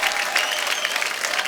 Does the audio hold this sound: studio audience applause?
yes